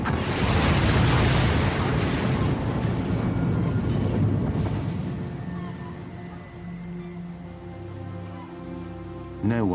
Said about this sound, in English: residents of Peggy's Cove heard a devastating explosion.